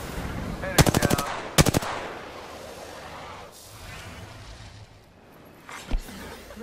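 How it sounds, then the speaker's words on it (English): Rapid automatic gunfire in the video game Apex Legends: two loud, close bursts of quick shots early on, then a quieter stretch and one short final shot. "Shot fired and they're hitting me!"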